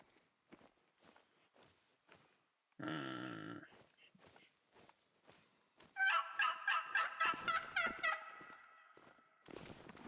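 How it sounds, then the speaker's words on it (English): Wild turkeys gobble in a quick, loud, rippling burst partway through, after scattered soft ticks like footsteps and one brief broadband rush, with another gobble cut short at the end. "Turkeys, right?"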